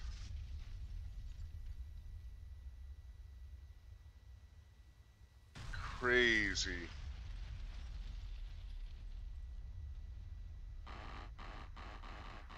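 Huge secondary explosions erupt from bombed ground targets in the combat flight game DCS World: a sudden loud blast at mid-clip over a steady low rumble, followed later by a cluster of sharp bursts, with a brief voice reacting.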